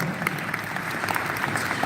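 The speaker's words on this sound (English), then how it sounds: "Give yourself a big round of applause for that." Audience applause in a seminar hall during a leadership talk, a brief dense wash of many people clapping at once, steady and moderately loud throughout.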